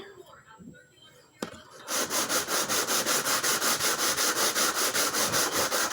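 Steady rhythmic rasping of sandpaper on a violin bass bar, back-and-forth strokes close up, following a quiet stretch with a single sharp tap.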